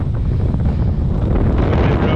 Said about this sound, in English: Sorry if you can't hear me, it's very windy.